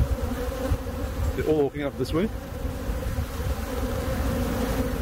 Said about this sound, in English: Because there's a lot of bees here.